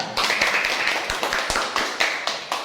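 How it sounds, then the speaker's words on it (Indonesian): A classroom of students applauds a presenting group, with quick, uneven hand claps close by for a few seconds and no talking. "Tepuk tangan untuk kelompok 3."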